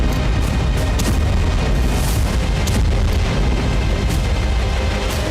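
A dense, continuous roar of rumbling booms and crackling blasts from a Ukrainian drone strike on air defenses at a Russian airbase, loud and sustained with no pauses.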